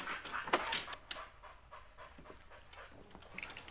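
A dog named Atticus panting outdoors, a quick run of soft, breathy pants that is strongest at the start and then fades into quieter huffs, with no talking.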